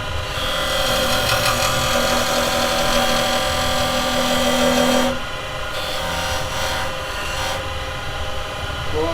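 Wood lathe turning a side grain pen or pencil pot with carbide chisels, a steady loud whirring scrape with a rising tonal whine for about five seconds, then quieter spinning and intermittent lighter cuts.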